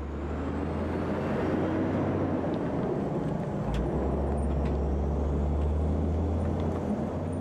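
Custom-built 205-ton, 160-foot Australian road train truck called the Centipede, with an 18-speed gearbox and 550-horsepower engine, giving a steady low engine rumble and road noise at moderate distance, with no voices.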